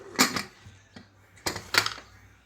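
A pressure cooker lid being closed over eggs: two pairs of close, sharp metallic clacks, separated by a brief quiet gap.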